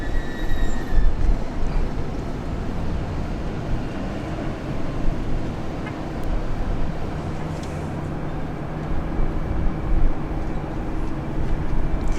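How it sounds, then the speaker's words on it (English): A Qantas jet airliner takes off at Sydney International Airport, bound for Adelaide as flight 739. Its broad rumbling roar holds steady and fairly loud over a dozen seconds. "We've got Qantas taking off now, flight 739, off to Adelaide."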